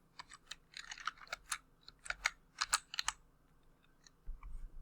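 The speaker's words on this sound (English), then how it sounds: "now we're going to just type in ceiling" Computer keyboard typing in irregular quick bursts of sharp key clicks, close and fairly quiet, with no talking.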